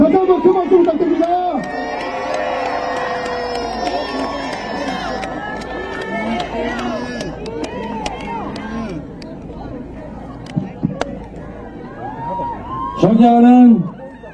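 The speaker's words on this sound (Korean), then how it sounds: "다시 한번 큰 박수 부탁드립니다." Loud crowd at a Korean presidential campaign rally in Dongtan, with continuous cheering and shouting voices, a few sharp peaks, and a louder swell toward the close.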